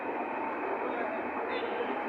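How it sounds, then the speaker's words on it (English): Berlin S-Bahn elevated surface train passing: a steady, broad rushing roar of rail cars going by, loud and unbroken. "there you have the S-Bahn. That's the surface train, elevated surface train, S-Bahn"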